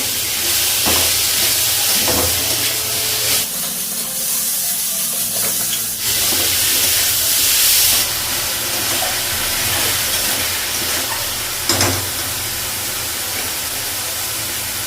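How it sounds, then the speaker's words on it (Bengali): Potatoes fry in a pan with spices and onion, a continuous loud sizzle broken by occasional stirring scrapes, close up with no voices. "পেঁয়াজ ফোড়ন দেবো মশলাগুলো লাগিয়ে দিয়েছি আলুটাও লাগিয়ে দিলাম ভালো করে ভেজে নেব"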